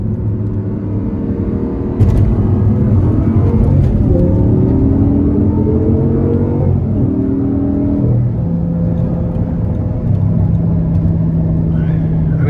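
A 2010 Audi R8 V10 Quattro with its naturally aspirated V10 engine and six-speed automated manual, heard from inside while driving: loud, steady engine drone that climbs and drops through several rev changes and gear shifts over the whole stretch.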